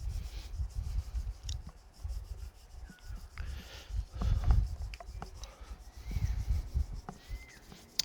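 Guitar fret wires get polished with fine-grit abrasive up to 10,000 grit, producing soft, close rubbing strokes in an uneven rhythm, quiet and scratchy with small clicks between passes.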